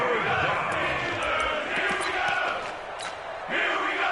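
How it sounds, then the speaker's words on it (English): A stadium crowd in a PS4 football video game, a steady roar of cheering that swells and dips, with commentary voices talking over it. "the crowd getting into it as we come up on a big 3rd down"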